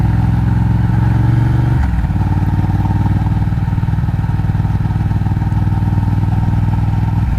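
A 2012 Ducati Diavel fitted with a Termignoni exhaust, its engine rumbling loud and close throughout while riding, with a brief shift in pitch partway through as the throttle changes.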